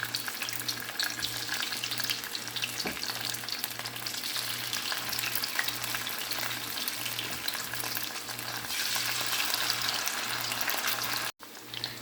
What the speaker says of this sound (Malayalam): വെളിച്ചെണ്ണ നന്നായിട്ട് ചൂടായി വരുമ്പോൾ നമുക്കിതിലേക്ക് ചിക്കൻ പീസുകൾ ഇട്ട് കൊടുക്കാം.